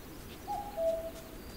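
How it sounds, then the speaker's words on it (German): A cuckoo calls in the survival game This Land is my Land, a faint two-note descending call heard once over steady outdoor ambience. "Ja, Kuckuck."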